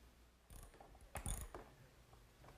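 Mechanical clicking and ratcheting while fastening carriage bolts on a wooden workbench bench-screw nut: a few short, close metallic bursts over about a second, with no talk.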